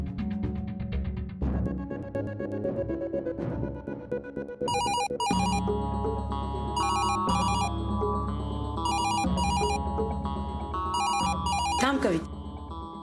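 A telephone rings at home in repeated electronic bursts with short gaps, loud and close, over a steady music bed, ending with a rising musical swell.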